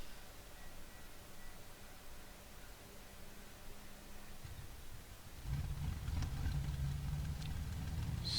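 In the Cliffs of Dover flight game, the first engine of a Bf 110 starts from a faint hiss, then settles into a low, steady idling rumble partway through, quiet overall.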